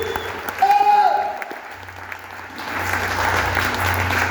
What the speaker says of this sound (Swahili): Pigieni huyo tena makofi